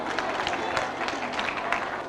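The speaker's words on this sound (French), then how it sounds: "On l'applaudit" A hall audience claps steadily for a candidate at a regional spelling contest preselection in Kayes, a dense, continuous patter of many hands lasting the whole short stretch with no voices on top.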